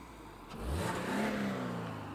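A Toyota GR86 engine with a JDL UEL header and stock catback revs up hard, building to a loud, rising roar before settling into a steady growl.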